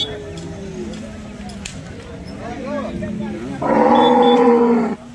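A cow at a busy cattle market gives one loud, sustained moo near the end, close and harmonic-rich. People talk over a constant crowd murmur beforehand.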